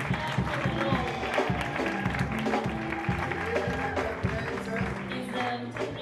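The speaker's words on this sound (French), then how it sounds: "Nous acclamons très fort le Seigneur" A church congregation cheering and applauding the Lord during praise and worship, steady clapping and crowd noise throughout, with music and voices mixed in.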